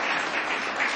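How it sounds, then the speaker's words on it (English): Audience applause at a community meeting honoring a graduate, a steady dense patter of many hands clapping throughout the brief moment. "everybody should give her a big round of applause"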